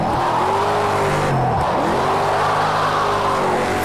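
A 900hp RTR Formula Drift Mustang drifts in Project Cars 2: a loud, close engine scream rises and falls through a brief dip, with tire squeal layered over the sustained roar.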